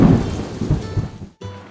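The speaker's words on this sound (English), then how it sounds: "We are just staying nice and toasty while it storms outside." Thunder rumbles low and heavy over steady rain outside during a mountain storm, with the deep roll fading and briefly cutting out before the rain resumes.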